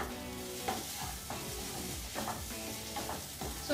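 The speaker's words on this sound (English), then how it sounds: "Now mix everything nicely till the oil oozes out and the raw smell goes." Minced mutton cutlet mixture with coriander is stirred in hot oil: quiet, repeated scraping strokes in a loose rhythm over a continuous soft sizzle, heard close with no voices.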